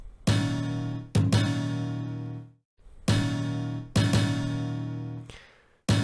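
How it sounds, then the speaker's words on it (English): Synthesized muted guitar stabs played from MIDI in FL Studio 12, short chords with sharp attacks, repeated in a hip hop pattern with a couple of sustained notes fading out. "It's kind of like a muted version of that same exact guitar stab."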